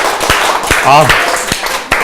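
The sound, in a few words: audience applause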